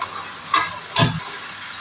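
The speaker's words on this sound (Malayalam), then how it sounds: "നന്നായി ഇളക്കി ഇതിൻ്റെ മണമൊന്ന് മാറുന്നവരെ" Ginger, garlic and green chili paste being stirred as it fries in hot oil for a Kerala chicken biryani. Two short, close scraping stirs sound over a soft, steady sizzle.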